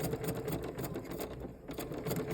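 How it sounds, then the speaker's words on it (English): A sewing machine stitches diamond strips for a lone star quilt block. It makes a quiet, steady, rapid mechanical whir with a soft rhythmic clatter that pauses briefly near the end, and no voices are heard. "you just keep stitching all the way off the end and make sure that this doesn't kick out this way"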